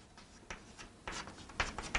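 A marker or chalk scrapes across a classroom board in a few short strokes while a graph of magnetization versus applied magnetic field is drawn, quiet and close with no talking.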